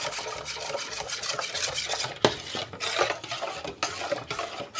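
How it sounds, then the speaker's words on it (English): Banana pudding mixture with warmed egg added is stirred in a pot, a continuous scraping and rubbing of a utensil against the pot, close and steady with a few louder knocks, no talk. "you're just going to keep stirring"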